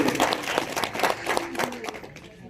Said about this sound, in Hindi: तो जोरदार तालियां एक बार सर के लिए।